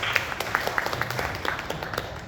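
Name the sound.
congregation applause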